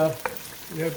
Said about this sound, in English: you want this pancetta to brown up at the same time